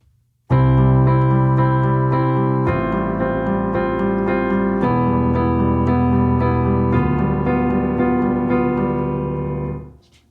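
Chords from a song rearranged into a major key, played as slow sustained keyboard-like harmonies shifting every two seconds or so, steady and clear before a fade, no one talking.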